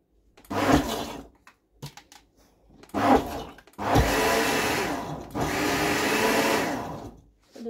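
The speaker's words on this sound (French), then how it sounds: "Et on va mixer 2 secondes" A kitchen blender whirs loudly through two sustained bursts of a few seconds each, preceded by short clunks and brief stop-start pulses.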